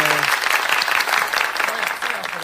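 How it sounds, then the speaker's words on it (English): A church or radio-show audience breaks into sustained applause, dense steady clapping from many hands filling the room for the whole stretch without pause. "the Lord a round of applause for that thing right there,"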